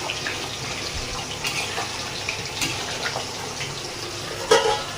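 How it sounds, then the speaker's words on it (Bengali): Water pours steadily into a pot of lentil fritter and potato curry, a continuous close gushing splash with a brief louder slosh near the end and no talking. "এবার পরিমাণ মতন জল দেব।"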